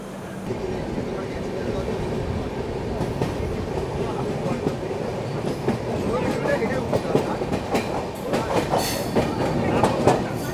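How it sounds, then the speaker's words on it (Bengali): The 13151 Jammu Tawi Express pulls out of Dhanbad Junction, its wheels clicking over rail joints in a steady, building rhythm, with a rumbling coach interior and voices faintly underneath. "গাড়ি ঠিক 5টা মিনিটের হল্ট দিয়ে ধানবাদ জাংশন ছেড়ে দিল।"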